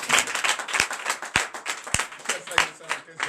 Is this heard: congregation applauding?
yes